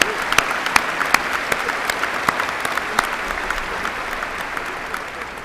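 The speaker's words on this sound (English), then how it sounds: "let's give them a round of applause" A commencement audience gives sustained, loud applause, a steady roar of many hands clapping with a few sharper individual claps standing out and tapering slightly toward the end.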